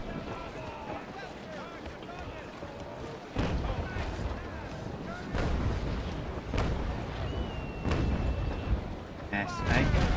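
Ship cannons firing a broadside in a naval video game, a series of heavy booming blasts one after another over rushing wind and sea noise, with a voice talking over it.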